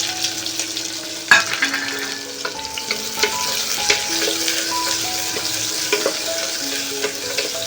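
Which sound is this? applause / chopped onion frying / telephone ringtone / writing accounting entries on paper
chopped onion frying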